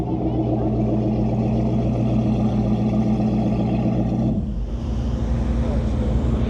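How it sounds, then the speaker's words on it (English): A supercar engine's deep, steady idle rumbles loudly and continuously, shifting to a slightly different tone near the end. "This thing sounds insane at idle."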